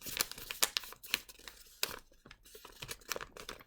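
Paper card parts being folded by hand for a pull-out card, giving a run of close, crisp crinkles and soft creasing rustles in uneven bursts.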